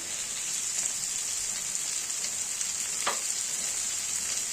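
Vegetables for chhyachra sizzle steadily in a pan of browned onions, a dense continuous frying hiss heard up close. A single faint knock sounds partway through.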